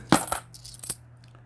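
Loose 100-won coins clink and jingle close by as a hand sorts through them, with a few sharp metallic taps scattered over about a second and a half and no talking.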